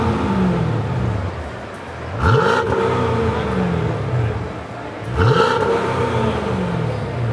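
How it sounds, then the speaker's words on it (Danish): A custom car at an indoor show in a Copenhagen exhibition hall revs its engine twice, each blip rising sharply through the exhaust and falling back to a steady, loud idle rumble close by. "Yes, og så det er så udstødningen."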